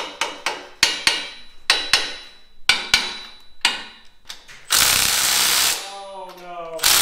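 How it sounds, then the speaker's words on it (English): Sharp metallic hammer taps strike in an uneven series while seating Jeep bearings, about a dozen blows, followed by a burst of noisy mechanical whirring. "hitting them with the hammer makes them settle in"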